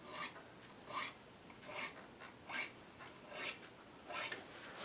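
Guitar fret ends being filed to break off their corners give short raspy metal strokes, about six in a steady back-and-forth rhythm, faint and close with no talking.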